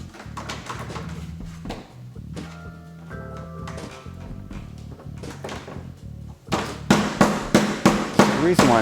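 Loud banging on a yurt door as its lock is tested, a run of sharp knocks and thumps in the last few seconds, preceded by mixed background noise and music.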